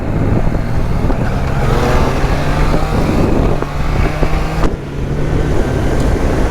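A Triumph Trident 660 three-cylinder motorcycle engine drones steadily while riding, a loud continuous hum with wind rush and small shifts in pitch as revs change.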